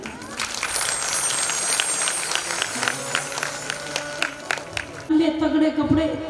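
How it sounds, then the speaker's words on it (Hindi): A crowd at a Shrimad Bhagwat Katha religious discourse gives sustained applause, a steady stream of claps. Near the end a voice and tonal sounds rise over the clapping. "एक बार जोरदार तालियां।"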